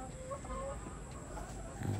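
A flock of chickens clucks and murmurs at feeding time, with soft overlapping calls under a constant background hiss and a louder low burst near the end.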